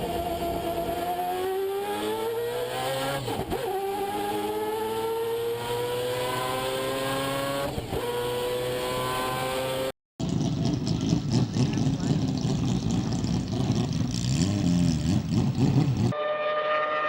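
A turbocharged four-rotor Mazda RX-7 rotary engine revs high, rising and falling in pitch with repeated swells, then cuts to a louder, harsher roar; a voice speaks partway through.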